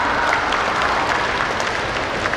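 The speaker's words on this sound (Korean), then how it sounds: "여러분 박수 부탁드려요." Audience applause at a Korean school writing contest event, a steady dense wash of clapping filling the whole stretch at close, even loudness with no voices over it.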